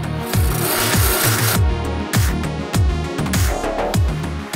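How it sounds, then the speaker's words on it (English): A tool scrapes wood spinning on a lathe, making rough rasping strokes with a repeating low pulsing rhythm, close and loud with no speech. "I'm gonna scrape all this off and shift it up a bit"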